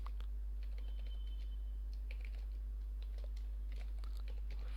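Scattered keystrokes tap on a computer keyboard, faint and irregular, over a steady low electrical hum.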